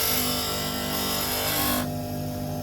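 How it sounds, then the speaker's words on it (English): An old steel chisel pressed against a powered grinding wheel, a steady loud abrasive whine with a continuous hum that shifts and thins partway through as contact eases, no voices. "So it's a case of grind, cool, grind,"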